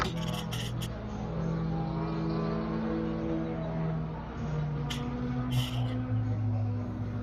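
Race car on a flying lap at Buttonwillow, its engine note droning steadily and shifting pitch as it passes, heard at moderate distance with a voice talking over it throughout.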